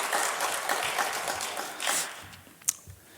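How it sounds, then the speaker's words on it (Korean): A church congregation gathered for Sunday worship claps, a broad, fairly loud burst of applause that thins out and fades toward the end, with a single sharp knock just before it dies away. "우리 친구들한테 박수 한번 해주실래요?"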